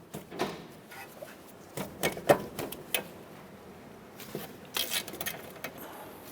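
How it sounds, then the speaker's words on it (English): A 12mm socket on a ratchet works the brake flex line bolt loose from the knuckle of a 2008-2012 Honda Accord, with irregular close clicks and metallic taps in short clustered bursts and no talking. "We're going to use a 12mm socket to remove this bolt right here, holding our brake flex line to the knuckle."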